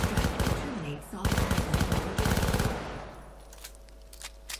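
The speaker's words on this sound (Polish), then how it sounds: "Ktoś tu do mnie strzela." Automatic gunfire in the video game Syndicate, loud rapid bursts of machine-gun fire aimed at the player for about three seconds, then fading to quieter scattered shots and background game sounds.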